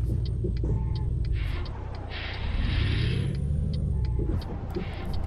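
Peterbilt 389 truck in Euro Truck Simulator 2, a heavy low diesel rumble that rises and eases while squeezing through gates, with short hisses and a high whine on top, heard close and continuous.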